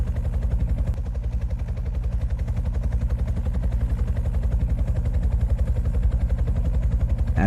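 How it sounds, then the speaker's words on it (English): Helicopter rotors in the video game Horace thump in a steady, rapid chop with a low engine drone, loud and constant throughout. "As we sat waiting for the helicopter to pass, we continued chatting."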